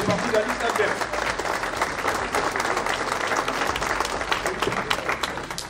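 An audience at a mayor's New Year address in Saint Martin de Hinx breaks into loud, sustained applause, dense clapping filling the room without a pause.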